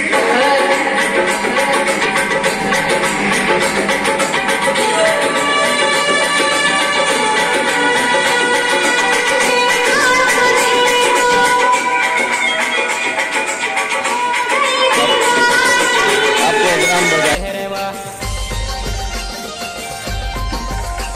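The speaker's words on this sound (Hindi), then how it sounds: "तो गाइस नाइट में गाड़ी ले आए थे, तो अभी गाड़ी में चल रहे हैं सॉन्ग," Loud songs pumping from a DJ vehicle's sound system at night, dense continuous music with heavy bass that shifts to a new track near the end.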